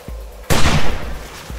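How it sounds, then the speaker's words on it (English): A pistol shot in the survival video game 7 Days to Die, one sharp loud crack with a short decaying tail, framed by faint low thumps before and after. "Let's see why we don't use the pistol"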